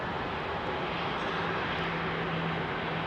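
An aircraft departing Heathrow at sunset, a broad, steady roar of jet engines that stays loud and even throughout, with a low tonal hum underneath.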